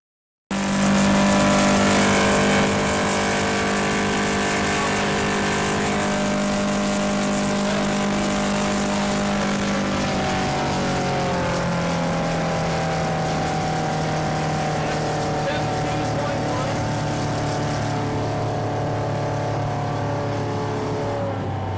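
A Wooldridge Super Sport Offshore motorboat engine roars steadily at high speed, its droning pitch holding for a long stretch, loud and close, with no voices.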